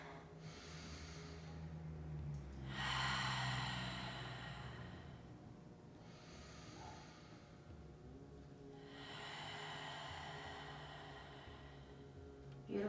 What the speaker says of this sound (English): We're going to take 3 cleansing breath cycles together